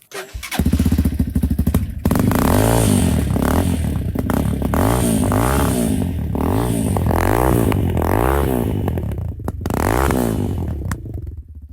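A Geon X-Road 200 motorcycle starts with a brief cranking clatter, then its single-cylinder engine catches and runs close by at a loud, throbbing idle with rhythmic rises in revs, heard alone.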